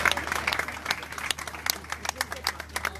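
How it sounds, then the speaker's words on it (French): A crowd at a birthday celebration event claps in scattered, uneven bursts. Individual claps are sharp and separate against a low steady hum, and the applause stays fairly faint and thins out toward the end. "Applaudissez pour vous-même"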